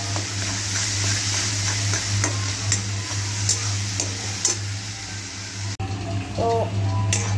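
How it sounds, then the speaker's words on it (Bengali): Mashed eggplant and spices fry in a pan with a steady close sizzle while a utensil stirs and scrapes through it, with a low hum and occasional clinks under the cooking. "ভাজতে হবে বেগুনটাকে, পুরো একদম মিশে যাবে মশলার সাথে।"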